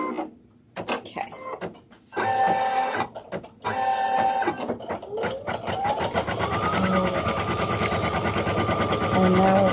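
An embroidery machine stitches a felt mask, its needle chattering in a fast steady rhythm with brief stops and restarts before running continuously, close and mechanical.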